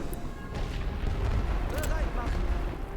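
A rumbling artillery barrage in The Great War: Western Front, a World War I strategy game, steady low booms and distant shell bursts under a voice talking.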